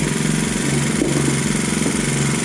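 A 49cc GoPed scooter engine idles steadily close by while its carburetor idle is being adjusted, a constant buzzing putter with an even pulse and no voices.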